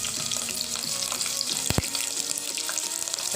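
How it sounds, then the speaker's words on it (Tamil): Green chillies crackle and fry in hot ghee with whole spices such as cinnamon, cardamom and bay leaf, a steady loud sizzle broken by a couple of sharp pops near the middle, with no voices. "போட்டதுக்கப்புறம் இதில் 2 பச்சை மிளகாய் போட்டுக்கிறேன்."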